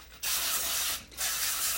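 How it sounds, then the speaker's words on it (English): Two bursts of an aerosol cooking spray can spraying a baking pan, a short hiss followed by a longer one after a brief pause, close and loud. "it says to spray it with cooking spray"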